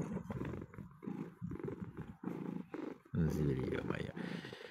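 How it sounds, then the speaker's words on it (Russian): A shaggy half Maine Coon, half Siberian cat purrs close by in a low, rough rumble that rises and falls in steady waves, with voices murmuring around it. "это наш кот, лохматый, кусачий, мурлячий"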